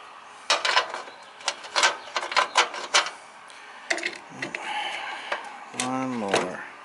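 A wrench works on the big side bolts of a Craftsman lawn tractor, producing a run of quick ratcheting clicks and metallic knocks, close by, followed by someone talking.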